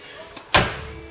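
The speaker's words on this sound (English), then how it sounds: "listen to this door shut" A single solid thunk of a Ford Cortina MK3 car door shutting, close and sharp, with a brief resonant decay after the slam.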